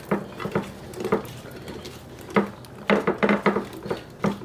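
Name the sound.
tossing potatoes with seasoning in a bowl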